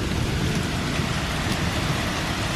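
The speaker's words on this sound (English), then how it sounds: "it's sure enough raining real real bad" Heavy thunderstorm rain pours down in a steady, dense wash of hiss that stays loud and unbroken throughout, with no voices.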